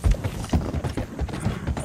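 Horse hooves clip-clop in a video game, a fast run of close, moderately loud hoofbeats with no talk over them.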